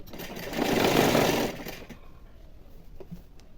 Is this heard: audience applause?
no